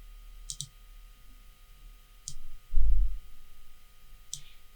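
A computer mouse clicks while working in Photoshop, three crisp, close clicks spaced a couple of seconds apart, some doubled, with a brief low thump in between and no talking.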